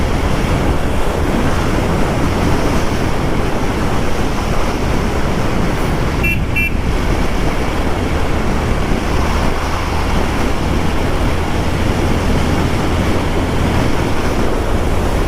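A Yezdi Roadster motorcycle rides fast in sixth gear, with a heavy, constant rush of wind buffeting the microphone for the whole stretch. The engine note is buried beneath the roar.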